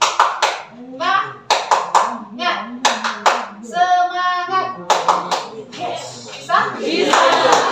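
A group of children clap their hands together in bursts of rhythmic claps, loud and close, mixed with children's voices and someone speaking between the rounds.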